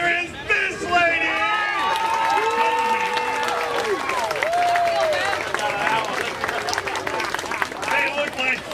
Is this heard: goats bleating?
no